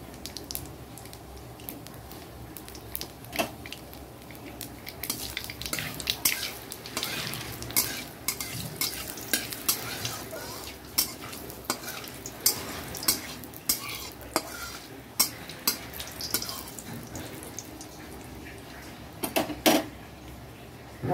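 Black cumin seeds fry in hot oil in a pan with a soft constant sizzle, while a utensil scrapes and clinks against the pan in repeated stirring strokes up close.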